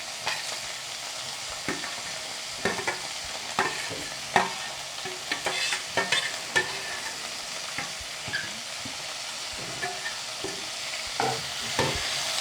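Onion, leeks and tomato frying in a pan for a vegetable biryani, a low steady sizzle broken by repeated scraping stirs at an irregular, unhurried pace, close and fairly quiet with no talk.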